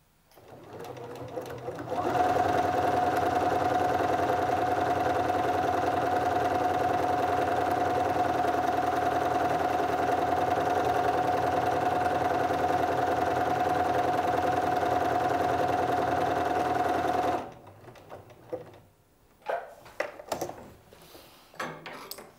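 A sewing machine stitches a buttonhole on an open button placket, a steady close mechanical hum with a fast even stitching rhythm running for about fifteen seconds before stopping, followed by a few faint handling clicks.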